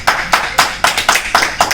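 An audience claps to welcome a poet at a Diwali poetry gathering, a series of sharp, close hand-clap bursts in a loose rhythm with no voices over them.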